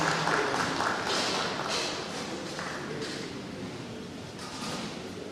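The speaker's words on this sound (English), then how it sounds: "A round of applause for him as he comes up stage." Audience clapping in a conference hall at a Nigerian pharmaceutical manufacturers' capacity-building event as a chairman walks up to the stage; moderately loud, continuous applause that slowly fades across the clip.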